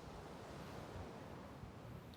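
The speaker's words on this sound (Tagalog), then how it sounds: "Lakas ng alon." Strong ocean waves surge on a beach, a dense continuous roar of surf with a hint of wind buffeting the microphone, steady and fairly close, no voices.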